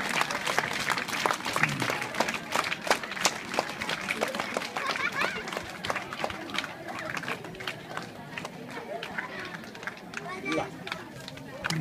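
A crowd of students gives sustained, brisk applause at a school ceremony, many hands clapping densely and evenly for several seconds, with chatter and voices mixed in beneath.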